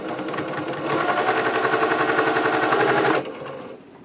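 A sewing machine stitches a quarter-inch seam in a rapid, even mechanical rattle that runs for about three seconds before stopping, with a fainter tail of handling noise.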